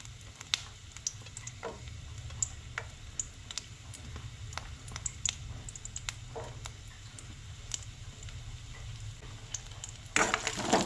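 Ginger and garlic gently frying in oil in a pan, a steady soft sizzle with scattered light crackles and pops throughout, close and quiet.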